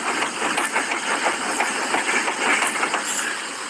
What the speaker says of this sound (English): here's your front end making noise